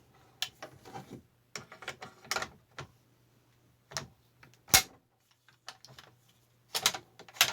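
An M1917 rifle handled up close, with scattered sharp metallic clicks and clacks from the bolt being worked, irregular and quiet between the louder snaps, without talking.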